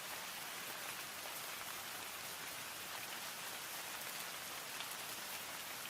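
Steady, even rainfall patters on a surface without pause, a dense wash of drops that stays at a constant moderate level throughout, with no voices.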